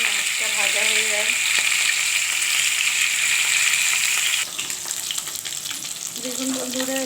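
Fish sizzles steadily in hot oil, a loud continuous hiss and crackle of frying that drops slightly partway through, with faint tonal kitchen sounds and no talk.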